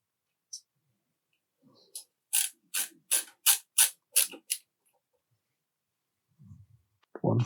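A hand driver ratchets a screw into the frame of a Prusa Core One 3D printer, about eight crisp close clicks in a quick even run, then quiet with faint handling.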